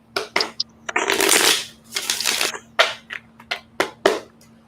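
Tarot cards being shuffled up close: a long riffling burst followed by a series of quick snapping and sliding shuffles.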